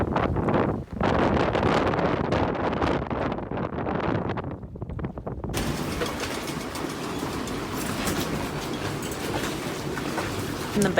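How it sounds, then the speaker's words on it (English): Loud, continuous roar of strong 36-knot wind buffeting the microphone on a sailboat at anchor in a bay in Guadeloupe, surging in gusts with a dense rushing noise. "The wind carried on blowing,"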